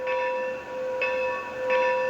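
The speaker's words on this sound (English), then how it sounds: "So there's your little bell." A model Williams brass camelback locomotive with QSI sound rings its small electronic bell three times at an even pace, each strike ringing on between strokes over a low background hum.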